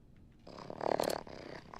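Cats purring in the video game Wasteland 3, a brief low rumbling purr that swells and fades over about a second, with no talk.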